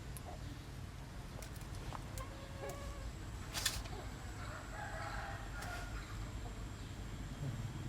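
A rooster crows faintly in the distance amid rural forest sounds, with a steady low background hum, insects and scattered bird calls across the scene.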